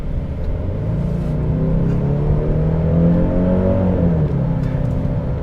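A Genesis GV70 2.5T four-cylinder SUV engine runs smoothly just after starting, a steady low hum with a gentle rise and fall in pitch and no voices over it.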